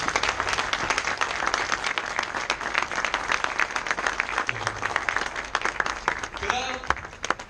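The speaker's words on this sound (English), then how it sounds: "I would like to request you to clap those hands for" A graduation audience gives dense, sustained applause for the graduates' parents, many hands clapping loudly and evenly throughout, with a faint voice surfacing near the end.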